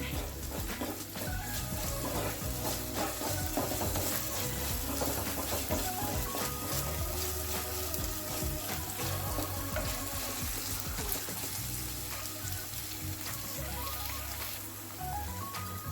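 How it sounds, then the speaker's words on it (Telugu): Ginger garlic paste and tomatoes frying in a pan for a mushroom curry, a steady, close sizzle with faint stirring clatter throughout. "అల్లం వెల్లుల్లి పేస్ట్ బాగా ఫ్రై అయిన తర్వాత టమాటాలు వేసుకొని ఫ్రై చేసుకోవాలి."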